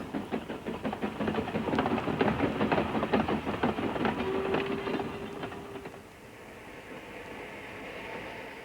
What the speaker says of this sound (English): And here comes the goods train, just about to cross the river.